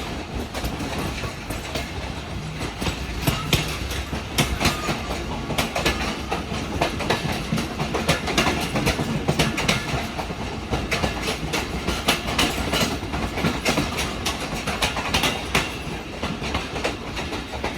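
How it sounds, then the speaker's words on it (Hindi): A train rolls steadily toward Lahore Junction railway station, and the wheels clatter in a loud, continuous rhythm for the whole stretch. No one speaks. "तो 2:25 पर ट्रेन फाइनली अप्रोच बना रही है लाहौर जंक्शन रेलवे स्टेशन पर"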